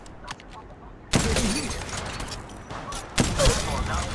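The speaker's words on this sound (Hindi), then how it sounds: "यहां फायरिंग हो रही थी" Gunfire in the Apex Legends video game: two loud, dense bursts of rapid shots, each starting abruptly and sustained for about two seconds, with faint game sounds before them.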